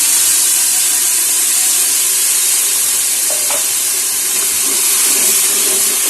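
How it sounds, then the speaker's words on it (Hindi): Chopped tomatoes, ginger, garlic and chillies hitting browned onions in hot oil in a pressure cooker for beef paya, a loud, dense, continuous sizzle and hiss close up. "ये प्याज ब्राउन हो चुके हैं,"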